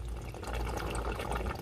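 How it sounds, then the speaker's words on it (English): An emptied AMSOIL Easy Pack pouch of transmission fluid being squeezed out during a 2017 Jeep Renegade ATF change, giving a soft, steady gurgling, sloshing liquid noise that stays fairly quiet and continuous throughout. "that's the sound of a spent Easy Pack"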